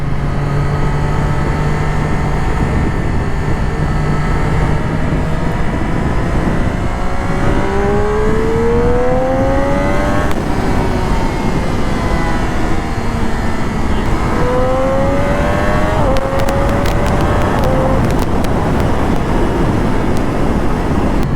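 A Triumph Daytona 675R sport motorcycle engine while riding, a loud continuous howl that climbs through the gears with quick-shifter upshifts and dips under wind roar, heard close throughout.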